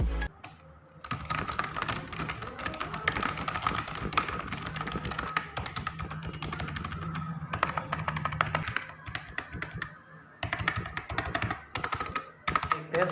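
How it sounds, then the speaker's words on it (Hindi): Typing on a cheap, low-cost gaming computer keyboard, a dense stream of close, crisp key clacks running steadily with brief pauses, heard alone. "तो सबसे पहले हम लोग सारी कीज़ का साउंड देखते हैं।"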